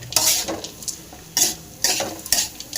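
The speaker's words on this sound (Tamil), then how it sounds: "லைட்டாக கொத்தமல்லி போட்டு அப்படியே கலந்து விட்டுடலாம்" Coriander is stirred into bitter gourd lemon fry in a pan, with scraping and clinking strokes of a spoon against the pan coming in a few bursts over a soft sizzle.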